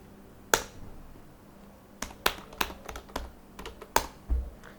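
Keystrokes on a computer keyboard while a command is entered into an Oracle database terminal: a few sharp, close clicks spaced apart, then a quicker run of taps, with no talking.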